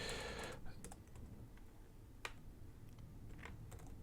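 Keys clatter in quick irregular bursts as an email address is typed on a computer keyboard, with several crisp clicks standing out over a low steady room hum.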